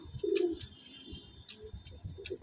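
A Giribaj pigeon gives soft, low coos in short bursts, close by, with faint chirps from other birds in the background.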